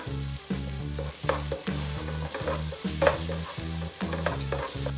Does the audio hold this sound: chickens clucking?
no